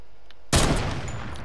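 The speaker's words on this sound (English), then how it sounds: "Nah, they're shooting us." Enemy gunfire in a video game: after a short hush, a sudden loud volley erupts and keeps rattling as sustained, dense shooting.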